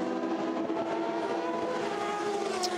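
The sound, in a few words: number 69 Ford race car coming into the pits at Le Mans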